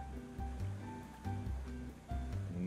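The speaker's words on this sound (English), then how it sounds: "I hear some rushing water" Quiet rushing water in the business-sim game Profit Motive, a soft steady surf-like flow under rhythmic, tonal background music with no talking.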